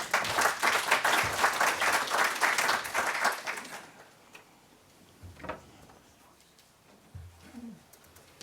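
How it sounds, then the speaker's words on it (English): Audience applause at a Guardian Media Group speaker's welcome during a Swedish hearing, a dense burst of clapping for about four seconds that stops abruptly, leaving a quiet room with faint shuffles and a brief low voice. "Matt, his first visit to Sweden, so welcome him with a big applause"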